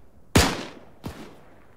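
Two gunshots ring out in an online multiplayer shooter: a sharp, loud report followed about 0.7 seconds later by a quieter, more distant shot, each trailing off in a brief echo, with no talking.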